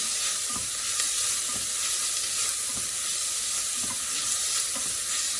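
White bean and spinach soup sizzles in a pan on high heat while a spoon stirs it constantly, giving a steady loud frying hiss with soft periodic scraping strokes and no talk.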